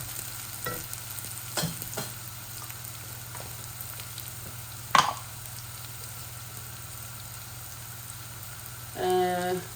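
Tomatoes fry in a pan for a Chittagong-style pabda fish curry, making a steady soft sizzle with occasional stirring clicks and a brief louder scrape.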